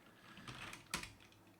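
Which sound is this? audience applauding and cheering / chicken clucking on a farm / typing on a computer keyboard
typing on a computer keyboard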